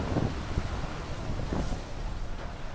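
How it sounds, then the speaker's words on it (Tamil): Fast-flowing river water rushing through a forest, a steady broadband wash with wind buffeting the microphone throughout. "இங்கே பாருங்கள் எவ்வளோ தண்ணி என்ன மாதிரி வேகத்தில் போயிட்டுருக்கு பாருங்கள்"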